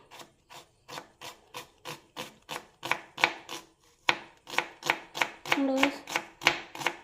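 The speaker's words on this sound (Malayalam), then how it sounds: "ഒരു പകുതി സവോള നമ്മൾ കട്ട് ചെയ്തെടുക്കാം." A knife chops half an onion into small pieces on a cutting board, about a dozen sharp, steady strokes close by, quickening toward the end with a brief rubbing scrape between cuts.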